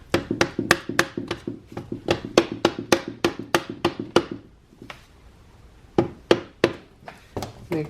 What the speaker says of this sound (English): Probably give it a couple of little whacks.